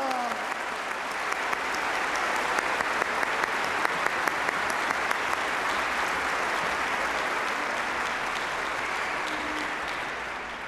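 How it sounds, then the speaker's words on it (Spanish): An audience at an orchestra concert for children gives a steady, full round of applause that holds at an even level for the whole stretch, with no talking over it. "¡Fuerte aplauso para todos los niños,"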